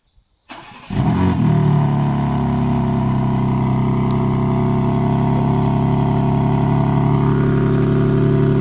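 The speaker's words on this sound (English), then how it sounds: "let's go ahead and cold start this BMW and let you hear how this thing sounds" BMW engine cold-started up close: a quick crank catches into a loud, deep idle that holds steady and rumbling, with no talking over it.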